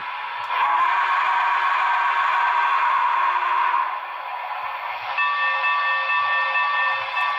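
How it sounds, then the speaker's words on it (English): A Broadway Limited FEF Northern #844 model steam locomotive sounds its whistle, a loud sustained chord held for about three seconds, then a brief gap before a brighter, more tonal whistle sounds alone. "there's a smoking whistle."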